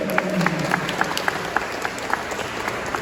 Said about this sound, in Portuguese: Aplauda Nossa Senhora.